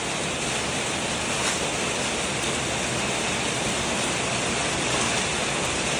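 Steady rain pouring down while rainwater is gathered into a bucket, a dense, even hiss of falling water filling the whole stretch without pause or voices.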